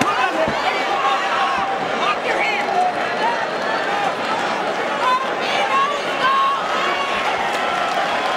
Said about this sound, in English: Crowd reacts.